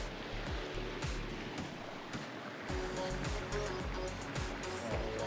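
Continuous rushing water of La Verkin Creek in Zion flows close by, a broad steady wash with no voices.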